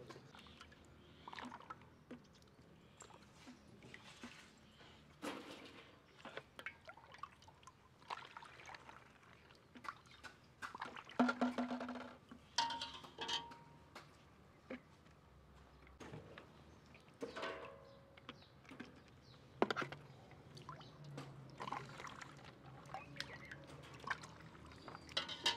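Cold milk is poured into a bottle, producing close, faint, irregular trickling and splashing with scattered clinks and bumps over a quiet background.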